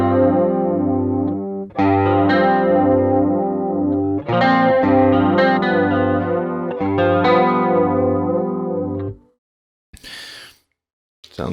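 Electric guitar through a BOSS GT-1000 chorus effect: chord phrases swirl with a wobbling shimmer, strummed loud and close, playing for about nine seconds before stopping, with a couple of faint breathy noises afterward.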